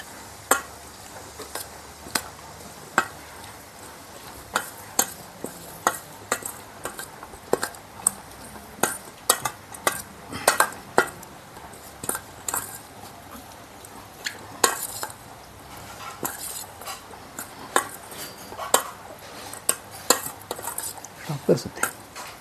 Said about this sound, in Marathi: तर पटकन आपण आता मिक्स करून घेऊया.